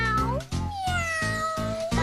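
A cat meows in two drawn-out, tonal calls, loud and close, with a short gap between them and no background noise.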